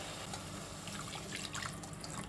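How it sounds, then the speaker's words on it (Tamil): Water poured from a tumbler into a pan of beetroot kurma, a soft continuous trickle and splash with a few brighter drips, faint and close, with no talking. "இப்போ வந்து நம்ம கொஞ்சம் தண்ணி ஊற்றிடலாம்."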